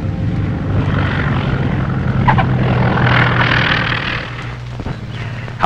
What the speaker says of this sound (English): With a 20-knot wind to slow him down, Harry Bliss lands with runway to spare.